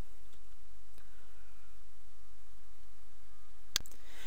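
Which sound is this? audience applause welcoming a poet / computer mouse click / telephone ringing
computer mouse click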